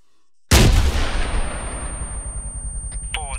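A single loud gunshot in the video game Arma 3 cracks out sharply after a moment of silence, then rolls into a long, echoing tail that fades slowly. A brief voice starts faintly at the very end.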